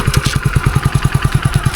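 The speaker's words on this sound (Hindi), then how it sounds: "क्लच को धीरे धीरे छोड़ा, जैसे बाइक हल्की सी भी आगे बढ़े वहीं से एक्सेलरेशन देना शुरू किया" A motorcycle engine thuds in a steady, loud, rapid low pulse as the rider slowly lets out the clutch and begins to pull away, with no speech.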